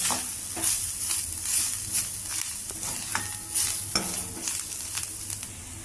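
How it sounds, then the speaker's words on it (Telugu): Gram flour fried in a pan with a bottle gourd stir-fry, a close sizzle under frequent scraping stirring strokes of a spoon against the pan, moderately loud, no speech. "శనగపిండి కూడా కొద్దిగా పచ్చివాసన పోవాలి కదా అందుకని ఇలా ఫ్రై చేస్తాను"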